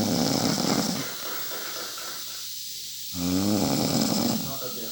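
A woman snores loudly with deep, rasping, engine-like breaths, one long rumbling snore followed by a pause and another harsh, roaring intake.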